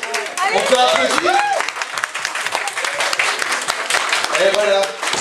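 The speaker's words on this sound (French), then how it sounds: "On peut applaudir?" An audience at a concert in a care home for people with disabilities claps for two dancers, a short burst of applause with voices talking and calling out over it.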